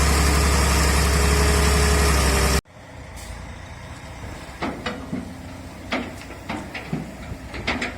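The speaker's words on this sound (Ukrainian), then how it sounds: "Так працює, шановні друзі, самоскид п'ятиосний" Five-axle dump truck's diesel engine running loud and close for about two and a half seconds, then an abrupt cut to a quieter scene with scattered knocks and clanks.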